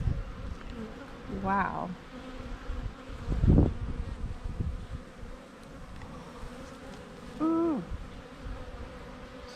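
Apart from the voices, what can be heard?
honey bee swarm buzzing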